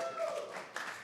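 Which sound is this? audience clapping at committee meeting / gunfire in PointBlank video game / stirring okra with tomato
audience clapping at committee meeting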